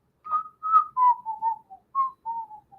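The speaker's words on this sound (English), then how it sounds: "That was a terrible whistle." A person whistles alone, a short descending tune of about nine clear notes that gradually drop in pitch, steady and moderately loud in a quiet room.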